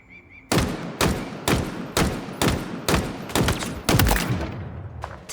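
Rapid bursts of gunfire in Halo Infinite, about eight loud, sharp volleys fired in an even rhythm, each ending in a quick decay, with no talking.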